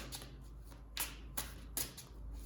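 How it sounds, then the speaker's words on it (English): Tarot cards being picked up and shuffled by hand, several quick papery riffles and slaps in a loose rhythm, close and quiet, without speech. "Let me pick up some more tarot cards."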